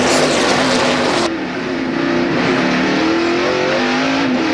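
A NASCAR race car roars away from a pit stop during the 2002 Ford 400, a loud, close engine note climbing steadily in pitch through several gear-held surges.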